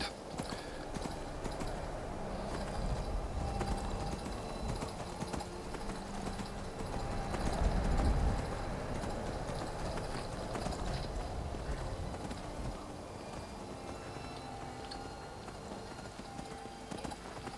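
Horse hooves clip-clop steadily in a fantasy role-playing game, a continuous even rhythm of hoofbeats at moderate loudness, briefly swelling louder midway, with no talk over it.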